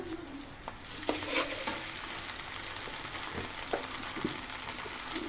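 Onion, green chili and ginger-garlic paste fry in hot oil for a fish curry with data stems, a steady close sizzle broken by scraping stirs of a spatula, no voices.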